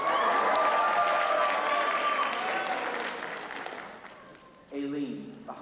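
A crowd claps and cheers loudly at a 2001 high school class reflections event, steady applause that fades after a few seconds before a brief swell returns near the end, with some voices mixed in.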